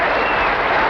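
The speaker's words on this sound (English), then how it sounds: "Do I get any applause for that?" Studio audience at a Las Vegas game show breaking into applause, a dense, steady wash of clapping filling the room at full volume for under a second.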